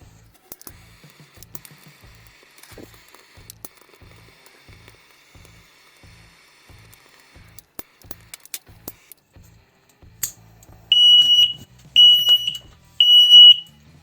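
Quiet ticking and clicking give way to three loud, piercing beeps from a Konyks FireSafe connected smoke detector in a regular rhythm near the end.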